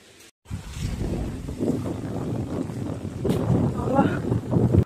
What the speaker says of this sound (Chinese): 好了，我长那么大，反正没看到有这么大风。